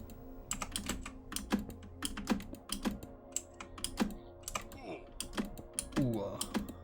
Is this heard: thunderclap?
no